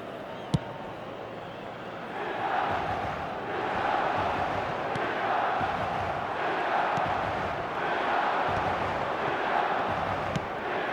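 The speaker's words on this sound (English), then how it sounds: "the crowd are reacting to that now" Stadium crowd in an Italian league football video game, a broad swelling roar with rhythmic chanting surges, steady and distant, with a commentator talking over it.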